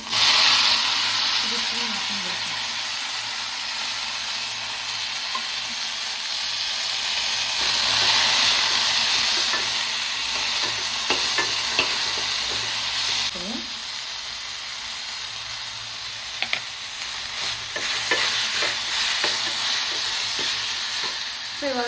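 Hot oil sizzles steadily in a pan while masala paddu chutney is cooked, a loud, continuous frying hiss with occasional stirring scrapes and clinks close by.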